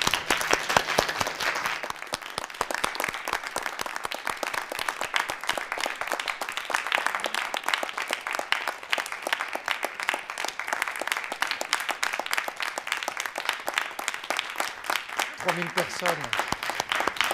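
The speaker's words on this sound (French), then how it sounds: "Encore merci et on t'applaudit." An audience at Benoît Jacques's masterclass applauds him after his performance, a sustained, even round of dense clapping from many hands while a voice speaks over it.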